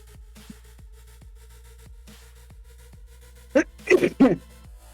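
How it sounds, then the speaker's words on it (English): A person coughs in a short cluster of sharp bursts near the end, close and fairly loud, after quiet room sound with faint regular ticking. "It was a cough."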